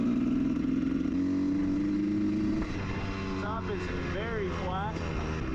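A Honda CR 250 two-stroke dirt bike engine idles steadily with a buzzy, slightly uneven putter, then its pitch shifts midway as voices talk over it.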